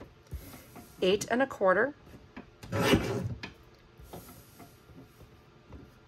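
Card stock is sliced on a paper trimmer during a card-kit workshop, giving a brief rasping stroke near the middle, set between spoken measurements.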